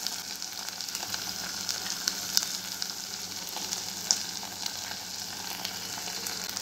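Soyabean chilli fries with tomato ketchup, soy sauce and vinegar in a steady, close sizzle, with a few light clicks of stirring and no voices.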